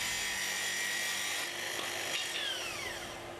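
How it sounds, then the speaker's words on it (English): A Makita SP6000 plunge saw makes a full-depth cut along a guide rail, giving a steady whining motor tone with a grinding cut through the wood that holds for several seconds and then eases slightly as the cut finishes. "Now release the stop and make the full depth cut."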